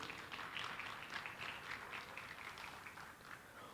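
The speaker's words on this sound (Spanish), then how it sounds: "entusiasta Rodrigo Scarton, o qual eu peço uma salva de palmas aí" Faint, distant audience applause for a guitarist, singer and songwriter at an international university event, heard as a soft, steady patter of many hands clapping throughout.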